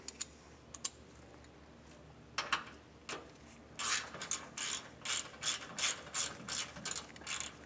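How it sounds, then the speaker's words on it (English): Ratchet with a 10mm socket snugging a bolt on a rear anti-sway bar bracket of a 2023 Jeep, first a few scattered clicks, then a steady run of close, rhythmic ratcheting bursts. "we'll take a 10mm socket and we'll snug that down"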